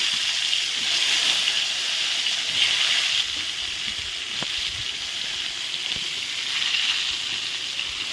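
Eggplant slices frying in hot oil, a steady broad hiss and sizzle that swells slightly at times, with faint clicks underneath and no talk.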